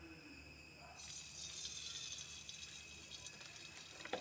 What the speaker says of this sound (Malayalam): ഇനി ഇതിലേക്ക് കുറച്ച് വിനാഗിരി ഒഴിച്ച് കൊടുക്കാം